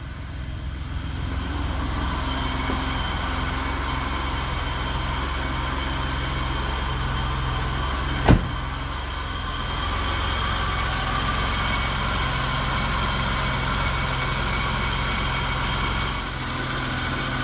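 A BMW 735iL E32 sedan engine idling steadily just after starting, a low, even hum with a constant drone and one brief sharp click partway through, no voices.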